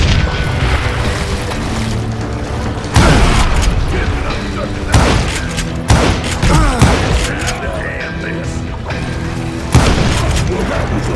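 Gunfire in the Western shooter Call of Juarez: Gunslinger, with repeated loud, sharp shots and booming volleys cracking at irregular intervals over a constant action din, close and forceful.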